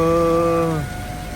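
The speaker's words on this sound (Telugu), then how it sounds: "వర్షం తగ్గితే బాగుంటుంది రాజమండ్రి వెళ్ళేటప్పటికి" Steady rain falls at a railway station, heard from aboard the Tirupati to Puri Express; a loud, sustained horn-like tone rides over the downpour for the first moment before dropping away, leaving the hiss of rain alone.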